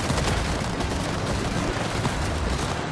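Enemy gunfire in the video game Cyberpunk 2077, a loud, dense, unbroken barrage of rapid shots filling the whole stretch, with no voices.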